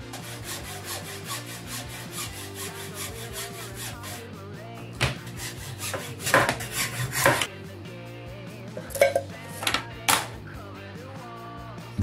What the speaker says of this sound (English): I started by cutting this wood I found months ago into a piece small enough to fit into a Pringles can.